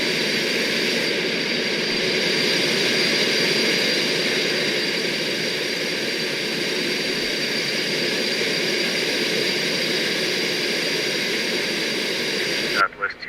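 Concorde in a flight simulator cruises with engines 2 and 3 thrust reversers deployed in flight, giving a loud, constant jet roar with a steady high whine, ending in a brief sharp bump.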